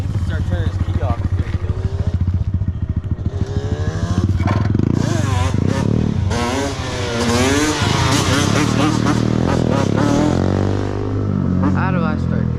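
Yamaha Banshee quad engine running, its rapid two-stroke putter rising into louder revving bursts, with people talking and shouting excitedly over it throughout.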